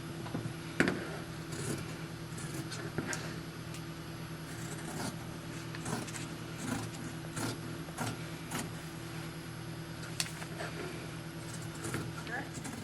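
Scissors cut out fabric pattern pieces for an 18-inch doll dress, giving repeated soft snips and rubbing swishes at an irregular rhythm, faint and close against a low background hum.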